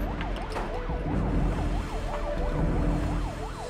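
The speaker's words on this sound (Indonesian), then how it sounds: "Lagian bisa-bisaan tuh ambulan pakai lewat sini." A loud ambulance siren wails in a fast, repeating up-and-down pattern close by, over steady traffic rumble.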